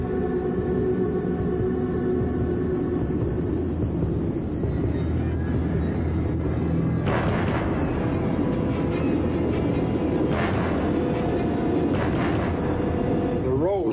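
A tornado roars with a loud, continuous, rumbling rush like a passing train, holding steady from start to finish.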